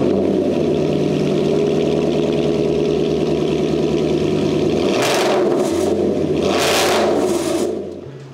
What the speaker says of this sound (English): giving you a bit of a shot of that exhaust system